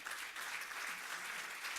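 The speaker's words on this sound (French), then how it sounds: "Je pense qu'on peut l'applaudir" A room full of people clapping at an eco-innovation awards ceremony, a dense steady applause with no voices over it.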